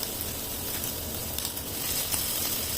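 Steady, close sizzling of atay balunan sisig (liver and gizzard) frying in a pan as sauce goes in, a continuous crackling hiss with a few brighter pops.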